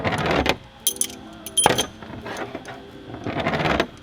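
A metal push rod from a turbocharged LS engine being rolled on a surface, giving metallic rattling and clinking bursts with a couple of sharp knocks, close and fairly loud, with no voices.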